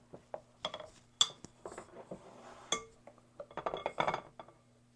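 A small soup spoon clinking against glass and dishes while filling butter tarts with raisin filling, a series of light, close taps and scrapes in a quiet kitchen, with no talking.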